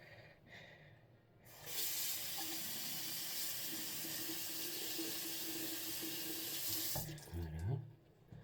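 A water tap runs into a sink for several seconds while something is rinsed underneath, a steady close splashing hiss that starts and stops abruptly, with faint handling noises afterward.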